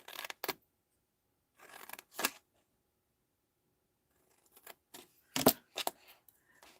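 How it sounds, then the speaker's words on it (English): Scissors snip through card in short, crisp bursts: a couple of quick cuts, a pause, then a cluster of sharp snips close up. "Cut a tiny V into there."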